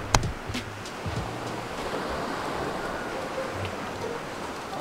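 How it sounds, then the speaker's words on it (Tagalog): Ocean surf breaks steadily on a beach in Ilocos Sur, a soft, continuous wash with a few faint knocks near the start. "dito ako ngayon sa may tabing dagat na mismo"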